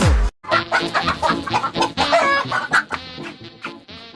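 Chickens cluck close by in a lively flurry of short, overlapping calls, busy and uneven, with no talking.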